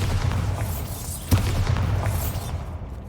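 A Bombarda spell blast in the Hogwarts Legacy video game: one muffled boom over steady game ambience, mid-level and heard without speech.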